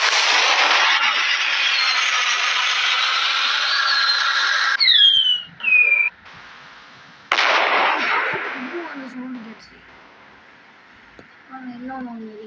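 Firecrackers in the Fireworks Simulator game give off a long, loud, dense crackling barrage, a couple of whistling pops, then another fierce burst that trails into fainter crackles and small chirps. A voice talks briefly near the end.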